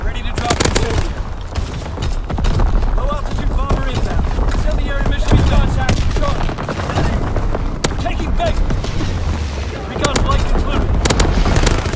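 Artillery and gunfire in Call of Duty WW2 thud and crackle continuously in a dense barrage, with overlapping booms and rapid shots throughout while a radio-style voice speaks over the battle.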